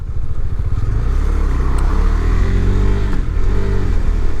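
A KTM 390 Adventure single-cylinder motorcycle engine pulls and revs on a test ride in extreme weather, a loud close drone whose pitch climbs, with rushing wind noise underneath.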